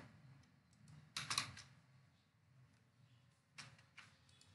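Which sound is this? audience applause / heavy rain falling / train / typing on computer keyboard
typing on computer keyboard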